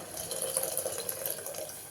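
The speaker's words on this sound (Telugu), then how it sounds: "కొంచెం వాటర్ యాడ్ చేయండి" Water is poured into a cooking pan of moong dal and cabbage curry, a soft, short, steady trickling splash that stays faint throughout.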